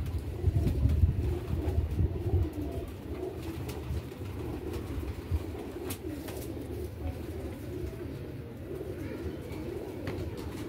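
Pigeons coo softly and repeatedly in a loft of Royal Teddy birds, low rolling calls over faint background hum and a passing car.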